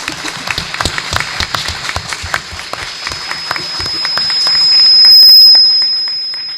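An audience at a Spanish space sector panel applauds, dense clapping close and loud at first, then thinning into a swelling wash of sound with a steady high electronic tone running through.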